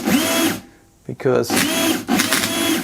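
A Makita cordless drill runs in screw-driving mode, its motor whirring in loud bursts with a brief ratcheting clatter between them, close up and over a person talking.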